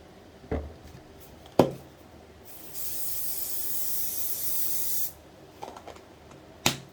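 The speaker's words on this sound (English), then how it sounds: "Setting spray." Makeup setting spray misted onto a face in one long, even hiss of about two seconds, framed by small clicks and taps of bottles before and after.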